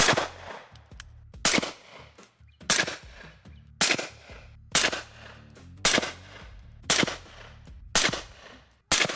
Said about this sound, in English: I'm just going to pick somewhere on that cardboard target, hold there, squeeze off 5 shots